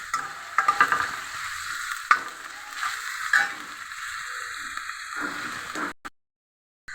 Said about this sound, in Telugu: ఇది గోల్డెన్ కలర్ వచ్చే వరకు మంచిగా ఫ్రై చేసుకోవాలి